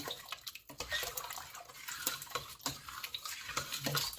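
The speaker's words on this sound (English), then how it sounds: "Stir it in nicely." Ground beef soup is stirred in a pot over high heat, with close, uneven sloshing and scraping sounds and a few light knocks.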